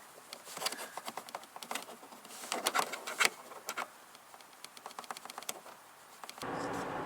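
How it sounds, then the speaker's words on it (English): A loose seat belt height adjustment cover in an Alfa Romeo Stelvio Quadrifoglio SUV gives a faint, rapid ticking rattle in irregular bursts of taps under road noise inside the cabin, ending in a rush of louder road noise. "I think this is the one that's rattling."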